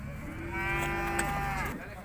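A single cow lets out a long, loud, close moo at a livestock market, a drawn-out bellow lasting over a second with faint background noise.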